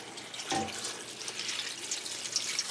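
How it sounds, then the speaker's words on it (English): Water poured from a tap into a pot of greens, a faint steady splashing stream with a brief louder gush near the start, heard alone at low level. "We're just gonna add our water."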